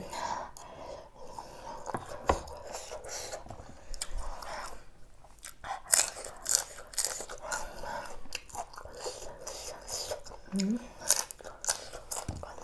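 Close, wet chewing and biting on tough, rubbery shellfish from a spicy pounded Thai salad, steady mouth sounds with small crunches and breaths, a voice murmuring in between.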